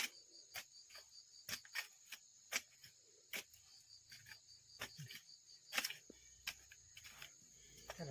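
Crickets chirp steadily in a high, continuous trill, broken by sharp, scattered clicks and taps nearby, fairly faint overall with no clear talking.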